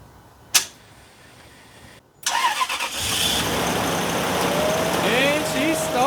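A Toyota Tundra SR5 cranks and fires after an ignition coil replacement. One sharp click comes first, then a brief silence, then the engine turns over and catches into a loud, steady idle with faint whining tones above it.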